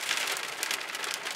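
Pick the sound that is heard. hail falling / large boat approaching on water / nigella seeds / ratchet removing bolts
hail falling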